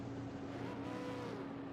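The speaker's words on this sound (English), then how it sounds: "As you hear those cars do a quick rev" A V8 Supercars race car engine in a video game at Bathurst's Mount Panorama pit lane blips quickly in the distance, a brief rising whine over a steady engine drone.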